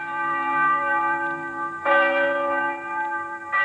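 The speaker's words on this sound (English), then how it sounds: "Why's the church bell ringing?" Two strikes of a large bell, each followed by a sustained, shimmering hum that carries on between them, with no voices present.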